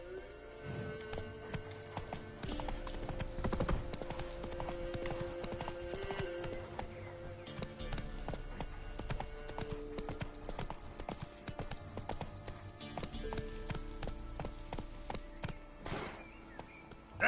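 Roach the horse gallops in The Witcher video game with a steady, rapid clip-clop of hooves, close and continuous, over game music and ambience, with a brief whinny.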